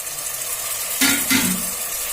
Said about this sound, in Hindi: टमाटर को भी हम अच्छी तरह भून लीजिए।